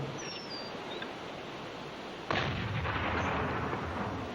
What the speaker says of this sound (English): it would fire all the guns it had at the hated German vessels